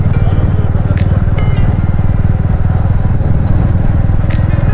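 Motorcycle engine running steadily at close range while riding, a loud continuous rumble that holds at the same level throughout.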